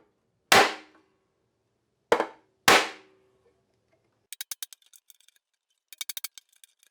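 Three sharp, loud hammer blows ring out on the caved-in body panel of a Porsche 912, followed by quicker, lighter metallic taps and clinks, with no talking.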